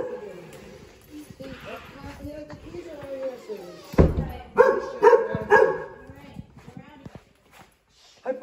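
A puppy barks in a few short, sharp bursts outdoors on a wet day, mixed with footsteps and close-up chatter from people nearby.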